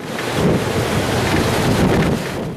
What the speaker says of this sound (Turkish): Şiddetli rüzgardan koskoca palmiyeler bile etkilendi.